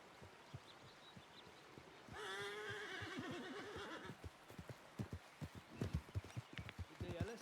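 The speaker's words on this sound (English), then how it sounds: "You just hear the horses just running around." A horse whinnies clearly for a couple of seconds in a medieval video game, followed by soft repeated hoofbeat-like thuds. The sound is faint, with quiet ambience around it.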